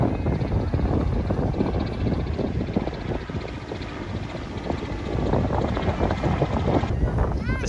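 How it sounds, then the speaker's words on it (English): A helicopter thunders steadily overhead at St. Pete Beach, Florida, a loud continuous rotor and engine roar mixed with buffeting wind noise on the microphone. "Helicopter."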